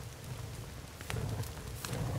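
Steady rain patters in the background in the video game The Forest, a soft continuous hiss with a few brighter drops, fairly quiet and with no one talking.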